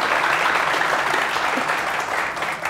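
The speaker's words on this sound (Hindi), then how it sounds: "आप लोग तालियां सही से बजाओ, जोश से बजाओ" Studio audience clapping throughout at a cricket quiz show, a loud continuous wash of many hands with no pauses, close and full.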